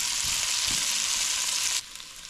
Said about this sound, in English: You can see here that the onion's sautéing nicely.